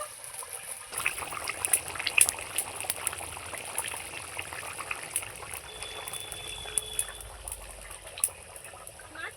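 A pot of snakehead fish and potato curry simmers at a steady boil, with a continuous bubbling, gurgling wash of liquid that holds an even level throughout.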